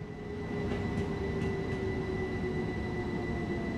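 A train in Train Sim World 4 brakes hard, giving a steady low rumble with a thin sustained whine riding on top, constant and fairly quiet throughout.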